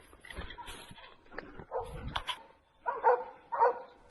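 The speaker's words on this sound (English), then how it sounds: "The hunting dogs have located the target and are holding it in place." Hunting dogs bark in scattered, uneven bursts while holding a wild boar at bay, some barks close and loud, others softer, with short gaps of near silence.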